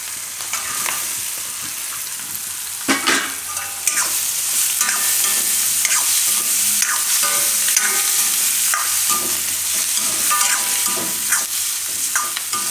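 Tomatoes and onions sizzle and fry in a pan with steady stirring scrapes throughout, close and continuous with no talking.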